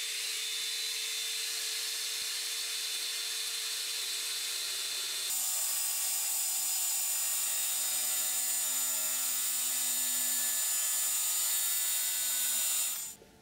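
A metal lathe tool rest being sawn through by a power tool, a loud continuous high-pitched whine and grind that shifts pitch partway through and cuts off at the end.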